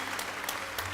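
Church congregation applauding during a worship service, a continuous wash of many hands clapping at once, loud and steady throughout the brief moment.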